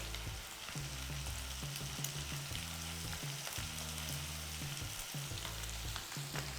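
Mutton frying in a pan with pepper powder, a steady loud sizzle throughout with intermittent stirring and scraping scattered through it, close and continuous, no voices.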